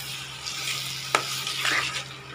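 Tomato pickle with sugar being stirred in a pan: a continuous soft sizzle with a single sharp spatula knock and brief scraping, close by, with no speech.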